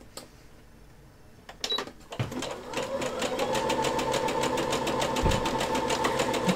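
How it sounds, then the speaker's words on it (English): A sewing machine starts after a few quiet seconds and runs steadily with rapid, even mechanical ticking, close and moderately loud, with no talk over it. "speed up the sewing machine from what I'm doing"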